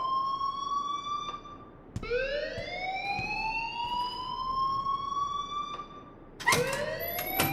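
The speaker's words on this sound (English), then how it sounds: "please turn off that alarm since that's your job" An alarm rings in the Life Is Strange video game, a loud electronic siren tone that sweeps upward repeatedly, breaking off briefly and then starting again near the end, with no talking over it.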